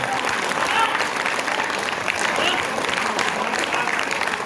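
A crowd at a Hindi poetry recitation breaks into loud, continuous applause, the dense clapping holding steady for several seconds with faint voices mixed in.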